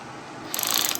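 A ratcheting wrench clicks rapidly and close-up while loosening a bolt on the recoil cover of a Honda 185s ice racer, a brief burst of mechanical ticking after a moment of quiet.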